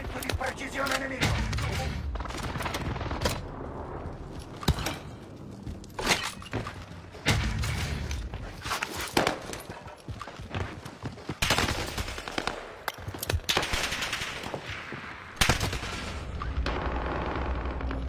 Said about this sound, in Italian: Bombardamento di precisione nemico.